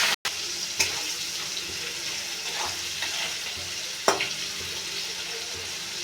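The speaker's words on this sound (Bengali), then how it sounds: "এখন মাছগুলো ভেজে নেব।" Shrimp fry in hot oil in a kadai, a steady broadband sizzle with a few sharp clatters and pops near the start and around four seconds, close and alone without talk.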